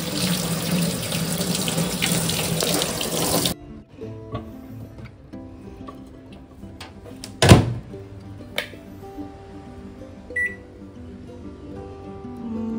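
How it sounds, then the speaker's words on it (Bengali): Potatoes are rinsed under a running kitchen tap, a loud, steady gush for about three and a half seconds that then stops, leaving quieter clatter and a sharp knock. "তো আলুগুলো একটু ধুয়ে নিচ্ছি, কারণ এগুলো হচ্ছে সেদ্ধ দেবো"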